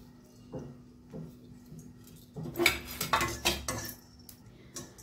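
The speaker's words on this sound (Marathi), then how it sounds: "धणे जिरं एकत्र थोडं भाजून घ्यायचं।" Coriander and cumin seeds dry roasting in a pan, giving off scattered scraping and clinking from a utensil against the metal, with a busier burst of stirring in the middle and short knocks around it, close and fairly quiet.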